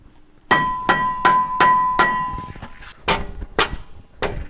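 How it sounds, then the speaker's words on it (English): A mallet strikes a Ford Raptor brake rotor to knock it loose, eight loud, sharp metallic blows in a fairly even rhythm, close up with no talking. "You get your mallet"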